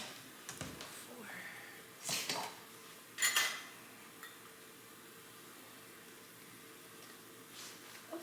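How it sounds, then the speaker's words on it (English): Dishes being washed in a home kitchen during a fridge clean, with a few scattered clinks and clatters of pots, plates and cutlery over a quiet background, including a brief louder clatter in the middle. "I need to clean these dishes I have before."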